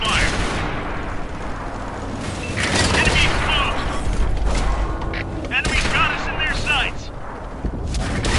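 Gunfire in a military video game crackles in dense bursts and volleys, with sharp reports over a busy background of heavy firing, while voices talk through much of it.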